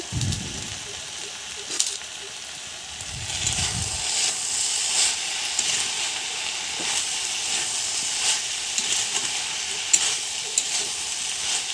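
Banana flower curry with Kashmiri red chili powder and a little sugar is stirred in a hot pan, a continuous hissing sizzle with occasional soft scrapes of the spoon, close by and without talk.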